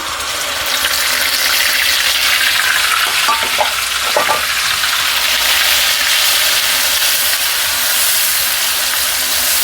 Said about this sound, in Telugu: నూనె కాగింది కదా మనము ఈ ఆనియన్ పేస్ట్ వేసుకున్నాము